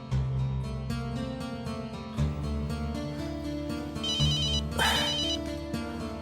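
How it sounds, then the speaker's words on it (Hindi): A phone rings with a repeated electronic trill over steady background music, sounding fairly close. "एक मिनट, मैं जरा दक्ष को फोन करता हूँ।"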